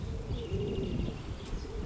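A pigeon coos softly and steadily, a low murmuring call repeated over a faint, muffled background hum.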